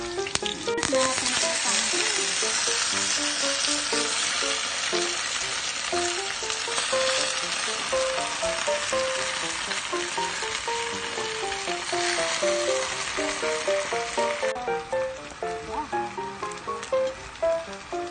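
Garlic and onion sauté in a hot pan with a loud, continuous sizzle and frying crackle, broken by scraping stirs, close up for the whole stretch, while a voice talks faintly underneath.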